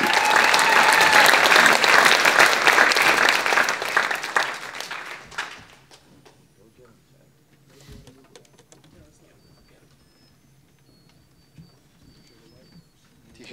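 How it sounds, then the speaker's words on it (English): A Christmas concert audience applauds for Greg Diaz, dense loud clapping for about five seconds that then quickly dies away into a quiet room with scattered small noises. "How about a nice round of applause for Greg Diaz?"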